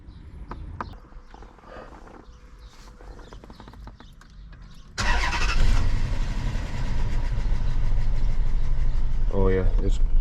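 A Hemi V8 engine with a dropped valve seat idles roughly, misfiring on several cylinders. It is loud and close and starts abruptly partway through, after quieter clatter and scattered sounds, and runs steadily to the end.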